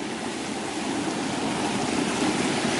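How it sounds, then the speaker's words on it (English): A small river flows steadily beside a natural hot spring, a broad, even rushing of water close by with no talking over it. "cross a little river, and then all that hot goodness just pours out of the source"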